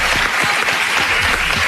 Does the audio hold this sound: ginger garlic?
no